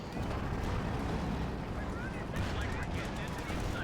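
Artillery bombardment in Company of Heroes 2, a dense continuous rumble of distant shell blasts and gunfire pounding without pause, loud and constant under the battle din.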